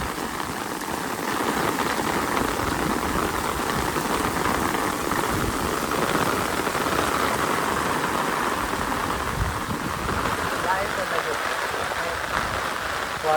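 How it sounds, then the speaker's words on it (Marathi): Heavy rain pours down steadily in a rural farming area, a dense continuous hiss of drops hitting surfaces, with a low engine rumble underneath and faint voices now and then. "पाऊस आले जोरदार एकदम"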